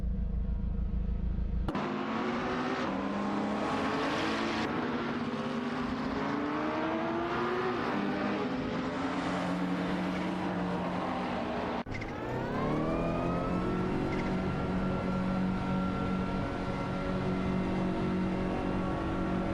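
AI-driven race cars in a racing video game scream past with rising and falling engine pitch, a dense layered roar of revving motors as they jostle and overtake, continuous and loud with no talk.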